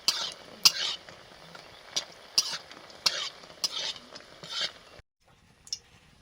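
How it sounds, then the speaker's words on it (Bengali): Bori lentil dumplings frying in a pan for neem ghonto, with a faint sizzle under a series of crisp spatula scrapes and clinks at irregular intervals, close by, ending in near silence with one last scrape. "এই যে নিম ঘন্টের জন্য একটু বড়ি ভেজে নিচ্ছি"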